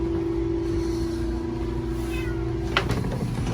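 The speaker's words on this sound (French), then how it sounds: "Salut, mon petit minou!" A pet cat meows near a waterfront with a ferry nearby and the tide rising, a few short calls over a steady low engine-like hum.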